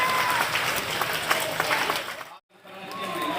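Audience at an International Women's Day celebration gives a round of applause, dense and close, briefly dropping out before resuming.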